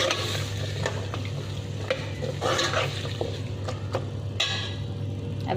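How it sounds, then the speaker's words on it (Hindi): Potatoes and tomatoes frying in a pan while being stirred, a continuous sizzle with repeated spoon scrapes and clinks against the pan, close and alone without talk. "अब हम आलू ऐड करेंगे जो हमने कटिंग कर लिए और साथ ही टमाटर ऐड कर देंगे। मिक्स कर लेंगे इन्हें।"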